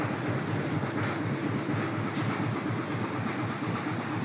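An antique World War I era Blackstone engine runs at a coffee factory with a dense, steady mechanical chugging and rattle, loud and continuous with no voices.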